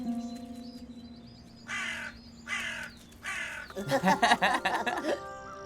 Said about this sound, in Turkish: Karga kardeşler, rica etsek biraz uzakta ötebilir misiniz?